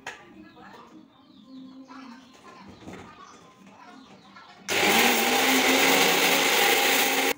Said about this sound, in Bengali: রোদ্দুর থেকে নিয়ে এই যে গুঁড়ো করাও শুরু করে দিয়েছে